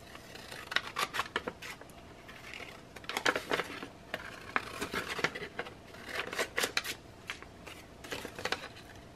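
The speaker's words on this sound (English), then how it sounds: "Okay, so then I'm going to cut this out." Scissors snipping through paper while trimming pieces for a scrapbook page layout: a run of short, crisp cuts in uneven bursts close to the listener, with light rustling between them and no talking.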